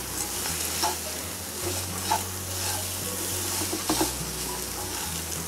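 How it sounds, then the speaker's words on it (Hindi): Spices and Kashmiri red chilli roasting in a pan for a besan curry, giving a constant close sizzle with occasional soft stirring scrapes and no voices. "मसाले के साथ इसको थोड़ा सा एक मिनट तक भून रही हूँ"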